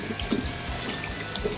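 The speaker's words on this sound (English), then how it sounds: "here comes the coconut milk" Coconut milk poured into a pan of Thai chicken curry, a soft, continuous liquid stream with faint splashes and drips, close and steady throughout with no talking.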